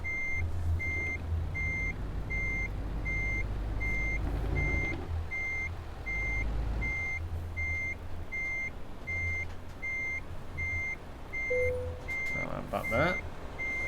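Reversing beeps from a 2015 MAN TGX Euro 6 truck backing up in Euro Truck Simulator 2: a steady series of evenly spaced, loud beeps over a low engine rumble, with a brief hiss near the end.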